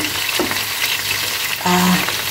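Chicken sizzles steadily in a frying pan with garlic while cooking for chicken afritada, a close, continuous hiss with a short tonal clink near the end.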